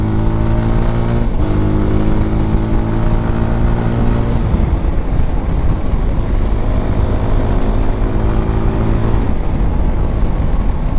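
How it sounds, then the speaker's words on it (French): A Voge 300 Rally motorcycle engine drones loudly and steadily while riding, its pitch dipping sharply at quick clutchless gear shifts made with the throttle cut, then climbing again; no voices are heard. "Simplement, il faut couper les gaz. Tu passes ta vitesse à la volée,"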